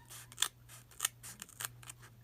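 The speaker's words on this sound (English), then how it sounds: "you're just going to cut just between the envelopes" Several crisp snips of yarn scissors cutting through paper between envelopes, close and quiet, coming in an uneven rhythm of about six cuts.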